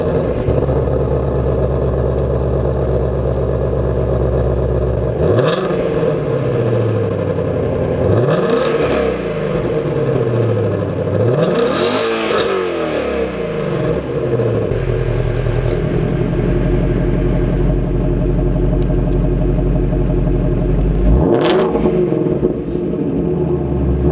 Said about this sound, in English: so here is a nice exhaust clip of the exhaust.